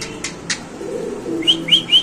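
Fancy pigeons in a loft give soft low coos, with a few sharp chirps and short high calls near the end, close by and with no talking.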